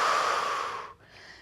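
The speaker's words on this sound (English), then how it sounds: "drawing nice deep inhales and exhaling slow, controlled exhales out through the mouth." A slow, controlled exhale through the mouth during a Pilates workout, a close breathy rush of air fading out after about a second, followed by a faint soft breath.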